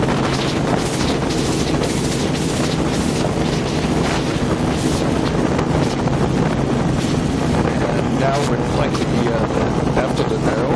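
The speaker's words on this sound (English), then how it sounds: "Got a bit of a headwind breeze." A headwind breeze buffets the microphone in steady, loud rumbling gusts that continue without a break, with a voice faintly audible beneath the wind noise.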